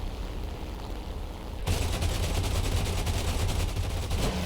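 Cannon fire from a BF-109 K4 fighter in the combat flight game War Thunder: a sudden rapid burst of rhythmic, closely spaced shots that keeps hammering steadily over a constant engine drone.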